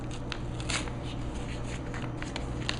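Labels peeled off a textbook bag, a close, continuous crackling rustle with small sharper tearing bursts and no talking.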